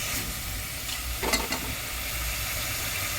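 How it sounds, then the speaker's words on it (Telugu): Prawns frying in a pan for biryani give a steady, close sizzle with a brief burst of stirring scrapes partway through, no voices. "చూడండి, రొయ్యలు బాగా వేగుతూ ఉన్నాయి కదా."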